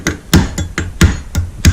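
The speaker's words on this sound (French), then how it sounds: "des fois on peut aider un peu avec le marteau, on va voir s'il rentre." A hammer taps a clutch spring into place on a 50cc scooter with six sharp, evenly spaced knocks in under two seconds, close and loud, with no talking.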